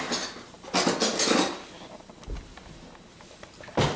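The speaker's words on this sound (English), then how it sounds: "Cut off a little chunk of butter." A knife cuts a chunk of butter against a hot pan or dish, giving a few scraping bursts and metallic clatters at close range with a soft thud midway and another scrape at the end.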